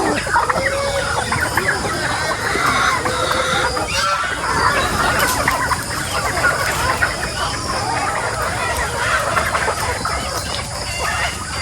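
Many chickens clucking and squawking together, loud and continuous, with occasional rooster-like calls in a busy farmyard din with goats.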